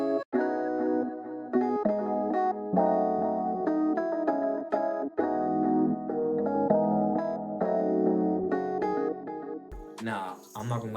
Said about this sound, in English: It's an electric piano, and it sounds like this.